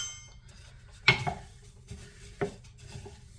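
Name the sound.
stirring oat muesli mix in a bowl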